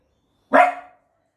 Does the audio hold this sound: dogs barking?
yes